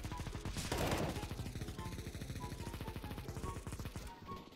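Gunfire in the video game CS:GO, rapid repeated shots in a fast automatic rhythm, moderately loud and close, alone without talk.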